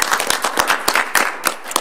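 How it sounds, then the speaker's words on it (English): A room at a school board meeting breaks into brisk, scattered clapping to congratulate new high school graduates, a short burst of many hands applauding together. "A congratulations applause for our latest high school graduates."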